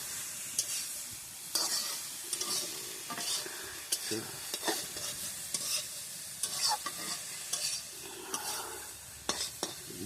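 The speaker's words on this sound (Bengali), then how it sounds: "আবার নাড়িয়ে নাও ভালো করে" Food frying in a pan and being stirred with a spoon, a continuous quiet sizzle broken by repeated scraping and clinking strokes in an uneven rhythm, heard close up with no talking.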